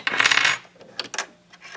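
A couple of small plastic clicks and a snap, close and crisp, with a brief rattling burst at the start, as a sewing machine presser foot is popped off.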